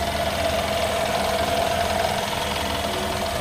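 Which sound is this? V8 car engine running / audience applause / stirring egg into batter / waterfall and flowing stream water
V8 car engine running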